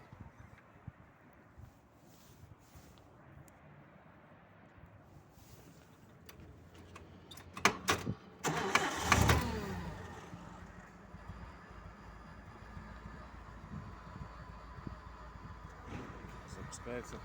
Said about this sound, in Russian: Сейчас запустим двигатель.